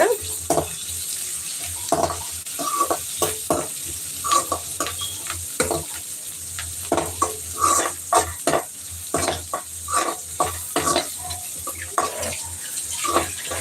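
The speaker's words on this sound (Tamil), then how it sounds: "கருவேப்பிலையும் நல்லா வதக்கிக்கோங்க" Curry leaves and onion sautéing in a pan, a continuous sizzle broken by frequent stirring clatters at an irregular rhythm, close by and without talk.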